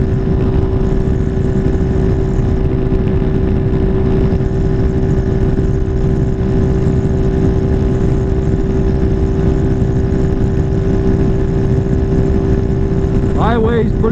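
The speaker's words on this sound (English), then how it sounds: "bike running really smooth" A Venom SS3 / KP mini 150 motorcycle cruises on the interstate at highway speed, its small engine holding a steady, unbroken drone throughout, with a constant rush of wind and road noise.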